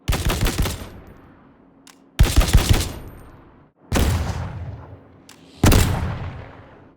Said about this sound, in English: The volume balance between the gunshot layers is then changed by this state